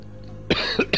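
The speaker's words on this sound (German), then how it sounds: "Wer hat denn da gehustet?" Several harsh coughs burst out in quick succession after a second of near silence, fairly close and loud, a brief throat-rasping cluster in the tense space-station survival horror game Alien Isolation.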